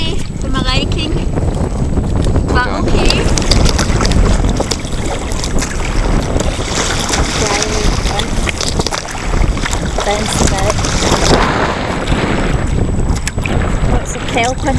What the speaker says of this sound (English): A wee bit choppy for my liking, and a wee bit windy for my liking